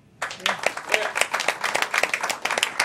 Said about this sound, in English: I think that's a big clap for that one.